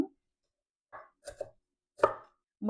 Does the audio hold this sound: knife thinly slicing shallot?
yes